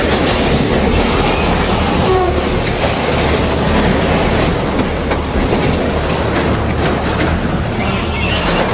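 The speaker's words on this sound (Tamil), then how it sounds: "ஒரு கூட்ஸ் ட்ரெயின் எந்த பிரச்சனையும் இல்லாமல் நல்ல விதமாக போயிட்டு இருக்குது" A freight train rumbles steadily along the tracks, wheels clattering in a continuous loud clickety-clack, with no other sounds.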